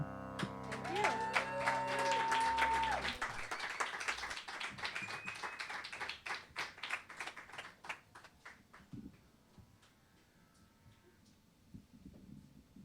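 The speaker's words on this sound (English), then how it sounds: "Another round of applause for Arvin and Ranjani." A crowd applauds at an open mic, a burst of clapping that starts over fading music and gradually thins out to a few scattered claps.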